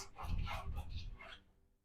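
A dog barks repeatedly in a quiet room during a tarot reading, a burst of close, fairly loud barks that fade out near the end.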